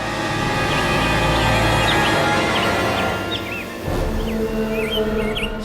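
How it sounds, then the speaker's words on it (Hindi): Bright, short bird chirps, said to come from the rare Neel Bhardwaj bird, repeat in quick, scattered bursts over a loud, steady background drone. "ये चिड़ियों की चहचहाने की आवाज है।"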